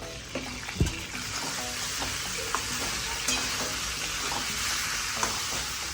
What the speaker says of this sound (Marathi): वांगे आणि बटाटे चांगले परतून झाले